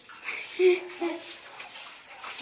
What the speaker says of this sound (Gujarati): હવે વાસણ ધોવા બેસે છે